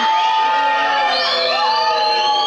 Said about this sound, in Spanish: se lleva la rechifla y el abucheo del respetable